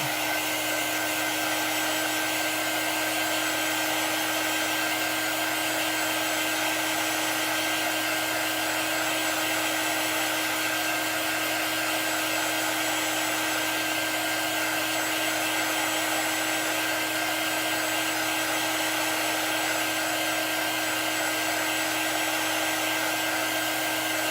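A hair dryer runs continuously close up, drying chalk paste on a craft project, a steady loud whooshing blow with a constant motor whine that never changes for the whole stretch, with no talking over it.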